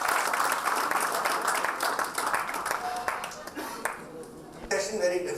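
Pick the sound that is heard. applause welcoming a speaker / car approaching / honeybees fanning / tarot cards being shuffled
applause welcoming a speaker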